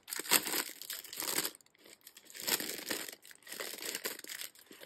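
Newly delivered matte sticker sheets being handled and unwrapped, giving soft, quiet crinkling and rustling of paper and plastic in irregular bursts, close by with no talking.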